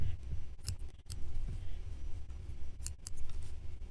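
Several crisp scissor snips in short bursts, close up, cutting through felt along a stocking seam against a low background hum.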